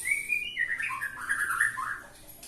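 White-rumped shama (murai batu) singing a loud, close run of varied whistled phrases and trills, continuous for the whole stretch with no talking.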